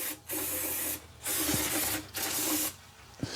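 Aerosol brake fluid sprayed onto a Jeep Cherokee differential in three long, loud hissing bursts, separated by short pauses, with no talking.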